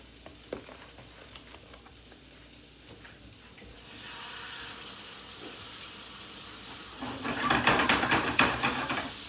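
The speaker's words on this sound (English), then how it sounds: "Put the hot water on." Hot water running from a kitchen tap into a cooking pot, a steady broadband rush that starts partway through and swells louder near the end, with no talking.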